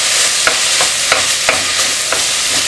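Chopped onion sautés in a hot pan with a steady, dense sizzle, broken by regular scraping strokes of a spoon or spatula roughly every half second, close and alone.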